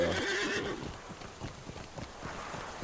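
A horse in the online game Lord of the Rings Online gives a loud whinny at the start, then its hooves clip-clop in a steady rhythm as it trots along, with no talking.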